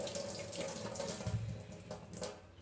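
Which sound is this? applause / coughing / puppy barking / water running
water running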